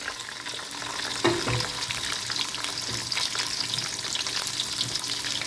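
Peanuts sizzle and fry loudly in hot oil with garam masala for a mutton peanut masala, a steady crackling hiss with a sharp stir or clatter partway through and no talking.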